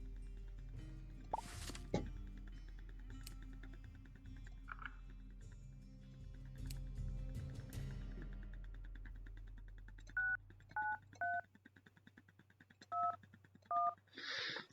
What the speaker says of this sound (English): And it's a phone call.